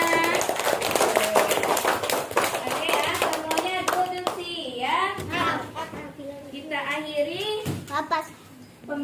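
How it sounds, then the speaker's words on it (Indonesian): A burst of hand clapping from a small classroom group rattles quickly, then fades as voices, including children, talk and call out. "kita berikan apresiasi. Oke, tepuk tangan buat Nabila."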